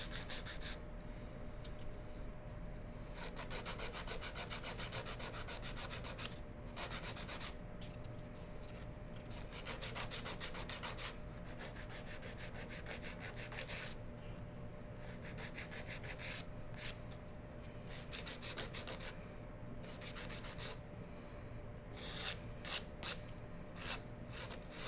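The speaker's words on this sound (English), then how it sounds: "I'm gonna take my shaper buffer and I'm gonna go on ahead and shape the nail first." Steady, close scraping and rubbing of a shaper buffer filing and shaping a fingernail, a continuous rasp with brief pauses and shifting strokes throughout, with no talking.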